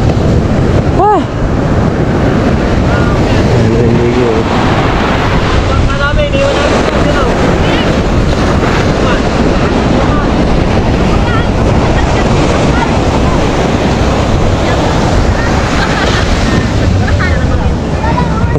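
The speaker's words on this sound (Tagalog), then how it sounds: "Nasagukan kami ng alon." Ocean waves hit a small boat at sea, a loud continuous rushing and slapping of water mixed with heavy wind buffeting the microphone, with shouting voices now and then.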